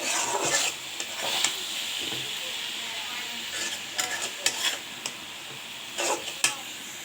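Spoon stirring and scraping in a pan of frying greens with garlic paste, with steady sizzle and several sharp clinks and scrapes of the utensil, close and fairly quiet in a home kitchen.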